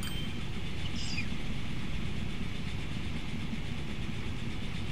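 A train moves in the video game Transport Fever, heard as a steady low rumble with engine drone and faint rail clatter, accompanied by a brief high squeal near the start.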